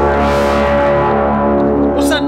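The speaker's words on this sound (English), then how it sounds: "you can automatically hear the spring reverb" A DIY tube spring reverb with valve preamps washes over sustained, ringing tones, giving a warm, fuzzy, echoing tail that stays loud and continuous.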